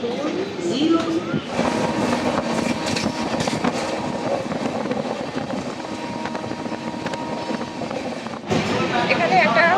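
A passenger train pulls out of Nalhati station in Birbhum district, heard from on board as a steady, loud rolling rumble and clatter that continues without a break, with muffled background voices mixed in.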